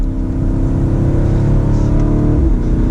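BMW X7 M50i SUV engine revving hard after a downshift to third on a mountain back road, a loud, continuous, rising growl with steady harmonic drone throughout.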